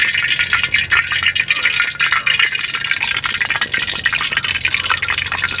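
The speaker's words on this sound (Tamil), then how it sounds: "எண்ணெய் சூடாயிட்டு இப்போ நம்ம ஊற்றி வச்ச பழத்தை போட்டு இறக்க போகிறோம்" Bread gulab jamun balls frying in hot oil, a dense, loud, crackling sizzle holding steady throughout with bubbling bursts.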